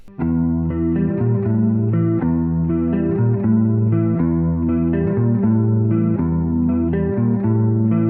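A song's intro riff on electric guitar in standard tuning, with a shimmering chorus effect and some grit, chords ringing continuously in a steady rhythm, played alone and up close.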